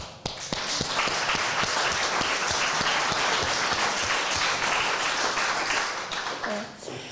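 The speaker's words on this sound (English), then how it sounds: "Another applause." Sustained audience applause at an intergenerational dialogue event in Geneva, loud, dense clapping from a crowd that holds steady for several seconds before tapering off, with a few voices near the end.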